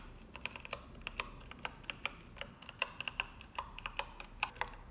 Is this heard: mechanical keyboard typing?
yes